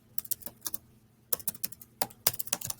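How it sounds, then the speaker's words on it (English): Fingers type on a computer keyboard during a statistics lesson, entering numbers in quick irregular bursts of close, crisp key clicks separated by a short pause. "I can type."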